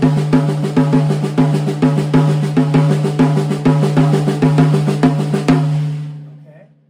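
Drum fill on a kit with the hand moving over to the tom, a steady run of sharp, evenly spaced hits over a low sustained tone, loud and close, ending with a ringing decay.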